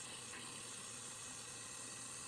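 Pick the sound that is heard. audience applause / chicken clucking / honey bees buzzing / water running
water running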